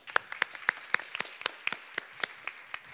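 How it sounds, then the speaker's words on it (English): A few hands clap at the close of a panel side event on migration, producing sparse, scattered claps spaced roughly a quarter second apart, fairly faint and thin against a quiet room. "A round of applause to all of us."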